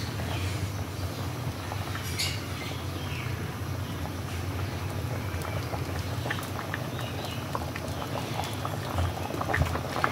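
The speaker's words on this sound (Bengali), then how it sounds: "ডালটা ভালোভাবে ফুটে গেছে।" Biuli lentil dal with vegetables boils in a pot over a gas flame, making a continuous, dense bubbling and spluttering at steady volume.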